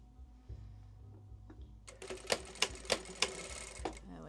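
A sewing machine stitching a folded curtain hem: quiet handling and faint taps first, then the motor starts in with a rapid buzzing run punctuated by sharp rhythmic clacks, close and fairly loud, with no talking.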